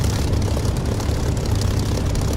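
An aircraft engine throttles up in the DCS flight simulator game, a loud, steady low drone with a propeller-like rumble that holds constant throughout.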